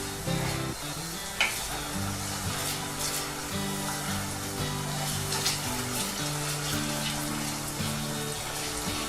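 Chopped onions and tomatoes fry in a pan for green pav bhaji, a loud, steady sizzle that carries on without a break, with occasional soft stirring scrapes close by.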